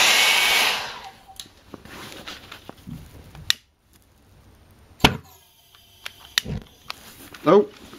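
A homemade valveless pulsejet engine gives a short, loud roaring burst, then sputters into scattered sharp pops, with people talking in between.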